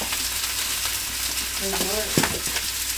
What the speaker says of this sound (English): So I got the sausage cooking.